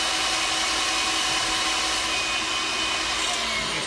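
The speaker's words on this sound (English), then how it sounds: "If y'all didn't hear me, I had the mixer going." An electric hand mixer whirs loudly and steadily through cake batter for a pineapple upside-down cake, a continuous high motor drone close by with no speech over it.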